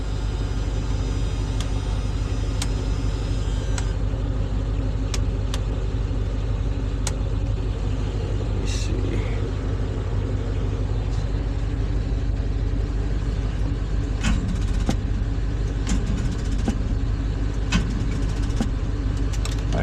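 A 1981 Chevy C20 Scottsdale pickup truck engine runs steadily with a low, continuous rumble and idle drone, close and constant throughout with occasional faint clicks and no talking.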